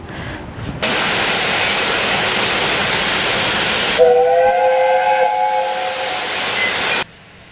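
Loud, steady hiss of escaping steam for several seconds from a steam train at Paignton, England, then a long whistle blows over it before cutting off abruptly.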